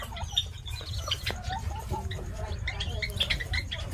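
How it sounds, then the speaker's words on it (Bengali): A group of about thirty young desi chicken chicks peep and cheep continuously at close range, with overlapping high chirps over a low background rumble. "30টা মুরগির বাচ্চা, এগুলো সব দেশি মুরগির বাচ্চা।"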